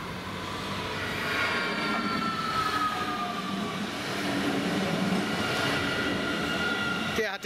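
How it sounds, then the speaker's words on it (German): An S5 S-Bahn train pulls into a level crossing at Heidelberg-Schlierbach/Ziegelhausen with a loud, steady rumble of wheels on rails and drawn-out squealing tones. The sound stays close throughout and cuts off abruptly at the end. "Der Zugteil der S5 fährt weiter, wie er da jetzt ankommt, aus Sinsheim, Eppingen"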